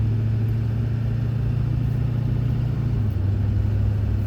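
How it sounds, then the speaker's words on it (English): A vehicle with a converted Allison five-to-six-speed transmission drives on a highway. A steady, rumbling engine drone drops in pitch near the end as it shifts up smoothly. "getting a lot smoother on the upshifts"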